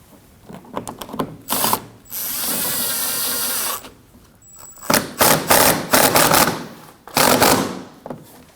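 A ratchet clicks in short bursts and one longer run while removing screws from the front inner fender liner of a 2015-2024 Ford Edge, close and loud with quiet gaps between.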